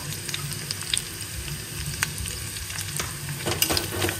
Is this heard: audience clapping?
no